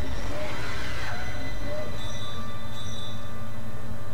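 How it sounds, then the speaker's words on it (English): Tram arriving in the video game Dead Space, a loud, continuous mechanical rumble with rail-like hum and a faint squealing tone throughout. "Tram en route."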